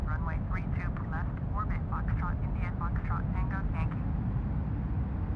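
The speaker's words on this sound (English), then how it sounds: "I am cleared to take off" An Airbus airliner in a flight simulator game gives off a steady, loud engine drone while preparing for takeoff, with someone talking continuously over it.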